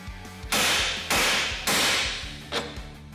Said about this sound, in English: take a hammer and hit the steering arm